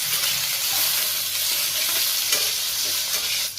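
Potatoes with a light sprinkle of salt and turmeric powder frying in a pan, a steady close sizzle with soft stirring scrapes throughout, no voices.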